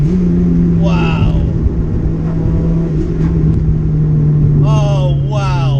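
A 600bhp Mitsubishi Evo 6 engine drones loud and steady from inside the car, with a couple of sharp rising revs as it shifts, while a person talks over it.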